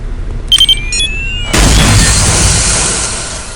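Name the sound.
radio-controlled bomb detonating in a video game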